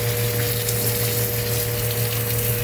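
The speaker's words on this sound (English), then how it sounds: "the water's kind of splashing up" Strong water jet from a filter backflushing hose gushing and splashing into a tank, a loud continuous rushing wash under a steady pump hum, close and unbroken.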